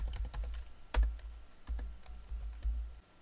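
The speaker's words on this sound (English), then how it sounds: "we can copy them and then click Alt ESV to paste only the values" A burst of computer keyboard keystrokes entering an Excel paste-values shortcut, several sharp, close clicks in quick succession with one louder press, and no talking over them.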